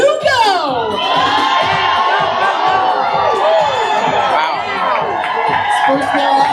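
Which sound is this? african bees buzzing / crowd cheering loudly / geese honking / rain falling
crowd cheering loudly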